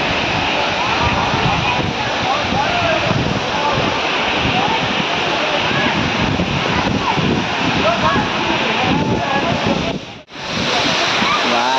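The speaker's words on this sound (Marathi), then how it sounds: "पाणी एकदम कमी आहे, पण खूप छान वॉटरफॉल आहे." A waterfall at Bhandardara rushes in a loud, continuous broadband roar from nearby, holding steady for most of the stretch before a brief dip, with faint voices buried in the noise.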